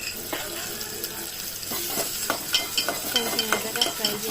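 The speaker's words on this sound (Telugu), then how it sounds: "దాంట్లో తగినంత నూనె వేసుకొని పచ్చిమిరపకాయలు వెల్లుల్లి ఉల్లిపాయలు బాగా ఫ్రై చేసుకోవాలండి" Green chillies, garlic and onions fry in oil in a kadai, a dense continuous sizzle overlaid by repeated close stirring scrapes that quicken toward the end.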